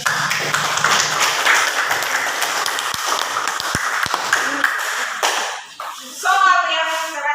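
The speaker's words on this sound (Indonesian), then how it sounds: "Berikan aplaus untuk Jessica." Students in a classroom applaud a classmate named Jessica: a dense patter of clapping holds steady for several seconds, then breaks off as voices take over.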